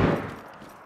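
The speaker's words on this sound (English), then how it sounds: "That was a gunshot." A single gunshot in the video game DayZ, a sharp loud report at the start that decays quickly into a fading echo, with no talk over it.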